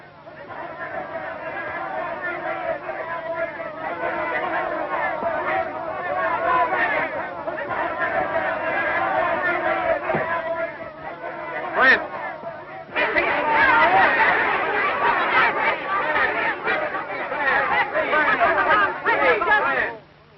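An agitated crowd of frontier townspeople chatters and murmurs, a steady dense babble that swells louder partway through, with individual voices rising out of the mix.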